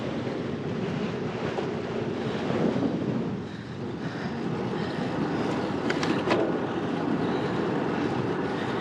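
Steady, roaring wind buffets the microphone while cycling into a headwind in New Zealand. It is loud and continuous for the whole stretch, with only a brief dip partway through.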